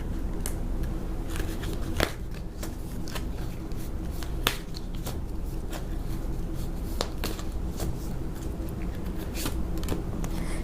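Tarot cards being shuffled by hand in a quiet room, with repeated crisp flicks and snaps of the cards over a steady soft background, close and fairly quiet.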